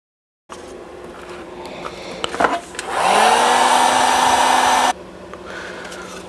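A heat gun warms the retention point of a Kydex holster built for a Glock 48 MOS with a TLR-8 Sub light. A few small clicks come first, then a steady blowing roar that spins up and runs for about two seconds before cutting off.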